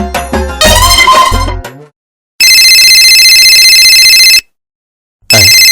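A mobile phone ringtone plays loudly and close, a melodic burst followed by a sustained ringing tone, then a brief gap before it starts again; no talking.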